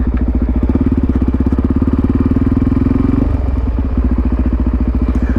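Suzuki DRZ400SM single-cylinder motorcycle on a sandy trail, its engine throbbing loud and close in a steady rapid pulse, with a brief dip in revs partway through, and no talk.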